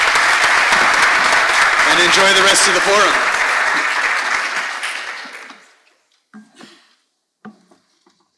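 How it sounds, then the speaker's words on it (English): Loud, dense applause from a forum audience thanking the panelists, sustained for about five seconds before fading out, with someone speaking over it near the end and a few faint sounds after. "Let's give them a big round of applause to say thank you for this time tonight"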